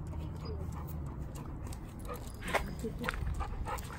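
Outdoors, a dog gives a few short whimpers and yips amid noisy background rumble, fairly faint and intermittent over four seconds, with some voices nearby.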